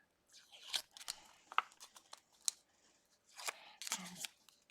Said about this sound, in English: I take off this sheet and I recycle this paper.